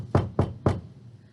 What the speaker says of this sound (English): The little old man knocked on the door.